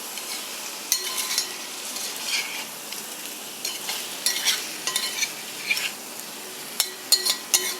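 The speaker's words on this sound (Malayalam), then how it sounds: "ഇങ്ങനെ കുറച്ച് നേരം ഒന്ന് വഴറ്റി കൊടുക്കാം." Chicken pieces and onions sauté in a hot pan, giving a soft continuous sizzle broken by intermittent scraping and stirring clinks of a spoon against the pan, close and without speech.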